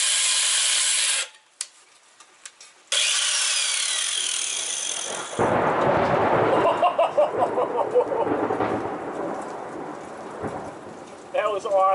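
Steady rain and rumbling thunder outdoors while a rear bumper is built for a 1998 Jeep Cherokee XJ, broken by a brief gap, then joined by the rasp of metal cutting for several seconds, loud and close.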